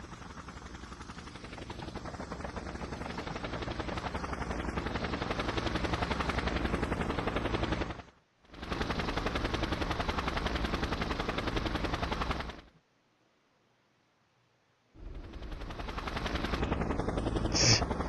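Loud rotor thumping of a helicopter in the video game Just Cause roars continuously, breaks off briefly, returns, then cuts to near silence before the chopping drone resumes.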